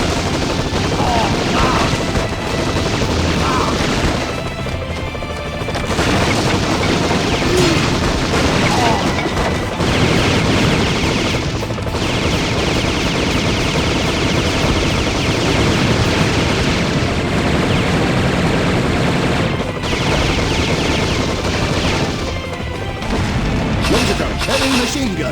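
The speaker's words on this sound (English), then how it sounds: "Laser gun, heavy machine gun." Dense video game combat in Metal Slug 3D on PS2, with laser gun and heavy machine gun fire, booms and crashes forming a loud, continuous barrage with brief dips, and some voice mixed in.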